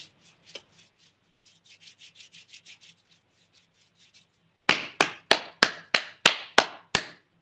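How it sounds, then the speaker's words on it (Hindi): Hands rub and massage the sole of a foot, first with soft, quick brushing strokes, then a run of about nine firm, evenly spaced slaps or pats, close and clear, with no voice. "पूरे तलवे की मालिश, साइड से, साइड की मालिश, नीचे की साइड की मालिश।"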